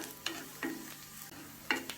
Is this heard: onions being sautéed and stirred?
yes